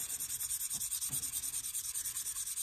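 A Cold Steel Air Lite knife blade is drawn across a worn KME 300 grit sharpening stone in quick, even back-and-forth strokes, a soft rhythmic rasping heard close and alone.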